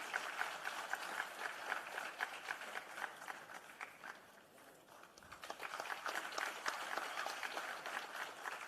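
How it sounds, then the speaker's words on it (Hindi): Audience applause at an investors meet award ceremony, dense rapid clapping from a large crowd that dips briefly midway and then swells again, moderately distant and continuous. "मैं चाहूंगी कि आप लोग जोरदार तालियां जरूर बजाएं।"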